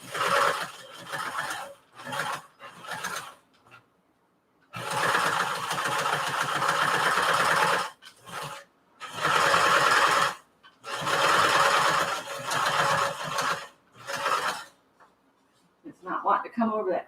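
A sewing machine labours through thick tote belting seams in repeated bursts of fast mechanical stitching, stopping and restarting as it strains over the piled-up layers, with brief gaps of near silence between runs.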